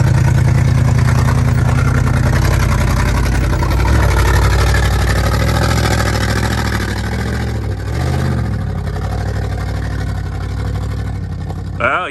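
A 4x4 with an Ironman lift on 33-inch tires climbs a rutted, steep trail, its engine revving loudly and continuously up close, with a voice speaking over the motor.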